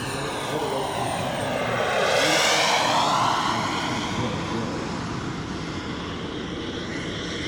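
A 1:4.5 scale model F-4 Phantom II jet roars past overhead at an air show, swelling loudly as it nears and then fading into a sustained whine as it moves away.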